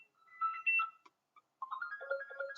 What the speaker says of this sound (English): sorry, the phone is going there